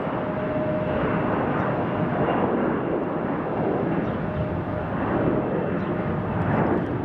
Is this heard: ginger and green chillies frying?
no